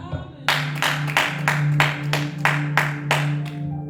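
A church congregation claps in a steady rhythm at a French-language service, about eight even claps over a sustained held tone, fairly close and loud.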